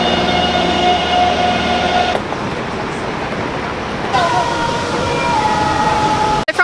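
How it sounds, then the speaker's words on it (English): Riding a Taipei metro train produces a steady, loud rumble of the car with whining motor tones that shift as it moves, heard from inside the carriage. "I jumped on the metro down to Longshan Temple"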